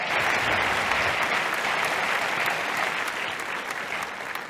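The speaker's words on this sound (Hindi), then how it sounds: "तालियों की गड़गड़ाहट के साथ प्रोफेसर रामजीत सिंह जी का स्वागत।" An audience applauds steadily and loudly, the clapping holding strong before easing slightly toward the end.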